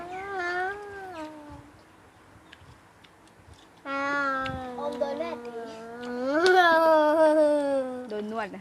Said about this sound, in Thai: เป็นแมว